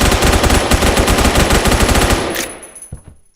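Rapid automatic fire from an M4 rifle in the online shooter Phantom Forces, a loud, close, continuous burst of shots that stops abruptly near the end, followed by a few scattered distant pops fading out.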